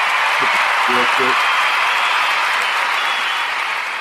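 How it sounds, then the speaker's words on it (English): A crowd gives a sustained round of applause, steady and dense from start to finish, with a voice faintly present beneath the clapping. "we're going to give out these round of applause for Tez"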